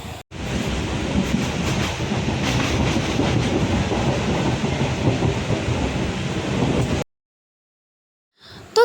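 A moving passenger train heard from inside, with a loud continuous rumble and rhythmic rattling of the carriage for about seven seconds before it cuts to silence.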